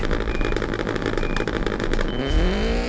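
Race cars in the FormulaG 2018 final at Rockingham launch off the line, engines revving hard and loud with a rising rumble near the end, no talk.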